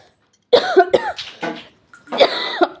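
A person with a cold coughing, a short burst of two or three harsh coughs, then a pause and another cough, close and clear against near silence.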